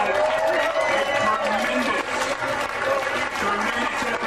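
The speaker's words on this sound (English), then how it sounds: "Give yourselves a round of applause." Close to 900 race finishers clap at the awards ceremony after a mountain road race, a dense, steady burst of crowd applause filling the whole stretch, with some voices mixed in.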